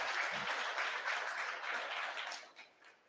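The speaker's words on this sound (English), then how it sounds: "Give yourselves a round of applause." Audience applause at a book launch for a multilingual criminal proceedings book, a dense wash of many hands clapping that holds steady and then fades out toward the end.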